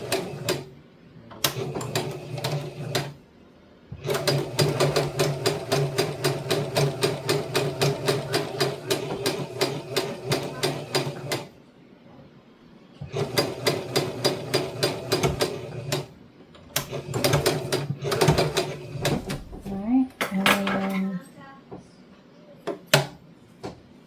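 A sewing machine stitches a seam on a toddler dress in steady rapid bursts, running for several seconds at a time with pauses between runs, close and clear.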